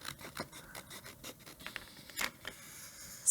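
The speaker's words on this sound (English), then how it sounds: "And then I can just use my scissors to trim this side." Scissors snip and scrape through a sheet of craft vinyl in a series of short, close cuts, with a sharper rasping snip near the end; quiet and steady, no voices.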